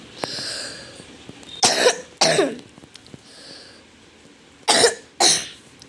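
A person sick with a fever and a bad cold coughs close up in two pairs of harsh bursts, with quiet gaps between them and no talking.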